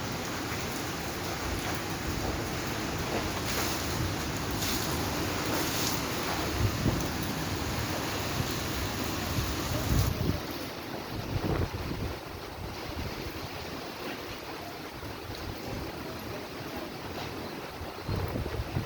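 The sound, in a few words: strong wind and rain during typhoon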